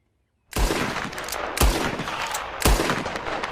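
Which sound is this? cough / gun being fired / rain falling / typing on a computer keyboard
gun being fired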